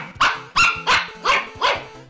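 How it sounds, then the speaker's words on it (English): A small dog in a puzzle video game barks five times in an even rhythm, each bark sharp and close, with no talk over it. "There's a little off-screen dog."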